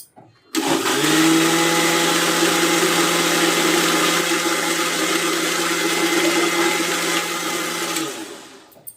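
A mixer grinder churns cream into butter, giving a loud, steady whirring drone that starts abruptly, runs unbroken for about seven seconds and then winds down at the end.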